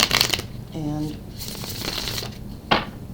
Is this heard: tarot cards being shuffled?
yes